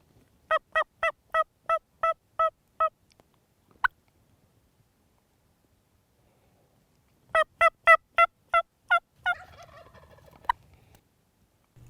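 A rapid series of sharp, repeated gobbling calls from a wild turkey near hunting decoys, then a pause and another burst of gobbles, fairly close and clear.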